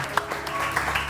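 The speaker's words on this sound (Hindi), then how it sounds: "आप लोग तालियां बजाएंगे, 1 2 3 तालियां बजाइए" Studio audience clapping on cue during a morning television show, a short burst of scattered claps with a few sharper individual hits, with some background voice mixed in.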